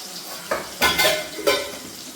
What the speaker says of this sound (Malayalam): മറിച്ചും തിരിച്ചും മറിച്ചും തിരിച്ചൊക്കെ ഇട്ടാണ് നമ്മൾ മീൻ വറുക്കുന്നത്